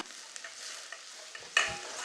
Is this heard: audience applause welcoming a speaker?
no